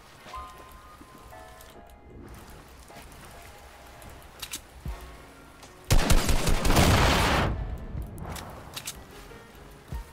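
Gunfire in the Fortnite video game: faint scattered shots, then a loud rapid burst of firing lasting about two seconds, followed by a few quieter shots.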